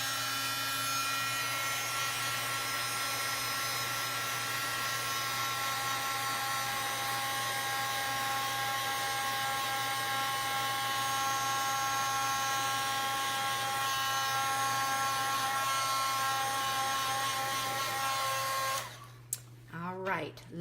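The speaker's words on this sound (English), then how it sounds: "I'm gonna go ahead and heat set this just a second." An electric heat tool heat-setting embossing powder on a card gives a loud, steady whining blow with a constant hum, running unbroken for most of the stretch before stopping near the end, when a voice speaks briefly.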